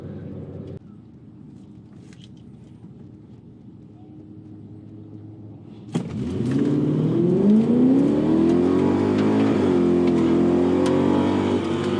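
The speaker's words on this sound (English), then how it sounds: "It rips burnouts." An Infiniti Q45 idles with a low, muffled rumble, then its engine suddenly roars and revs hard during a burnout, holding a loud, rising, sustained note up close.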